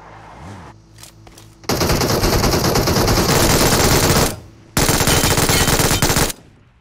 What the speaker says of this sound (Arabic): عمال اضرب فيك وانت واقف مكانك يا اسطى